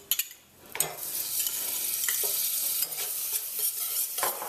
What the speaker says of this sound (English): The pan is warm, so I'm just going to dump in that butter first.